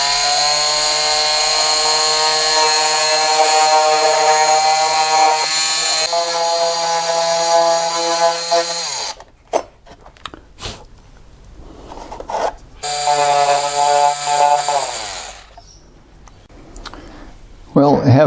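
A loud, steady high-pitched whine of a power tool grinding, stopping partway, then bursts of scraping and a second grinding run, during repair of an RC plane.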